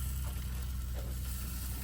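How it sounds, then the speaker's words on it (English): Bacon sizzling in a frying pan at a desert campsite, a steady broadband crackle and hiss that holds evenly throughout, close and moderately loud with no talking. "There's the bacon coming along. Good, mate. Sizzling."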